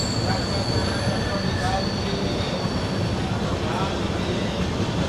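A steady, loud rumble of a moving train approaching a short tunnel, with faint high-pitched wheel squeal, heard continuously from inside the carriage.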